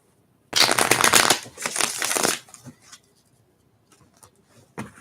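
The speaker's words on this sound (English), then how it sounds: "One more shuffle in here for you guys." A deck of tarot cards shuffled by hand in a burst of rapid riffling lasting about two seconds, followed by a few softer taps and shuffles, close and loud with no talking.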